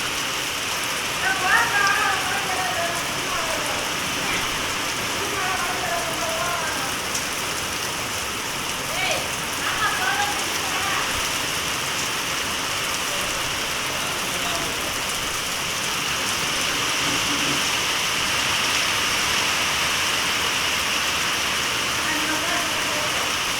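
Steady summer rain falls over a village, a constant close hiss of drops on surfaces that continues without a break, with a few faint higher sounds through it.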